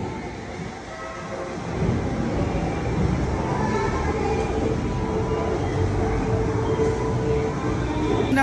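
Manila LRT light rail train rumbling steadily, a loud continuous low roar of rail car and wheel noise that swells after a quiet start and carries on to the end.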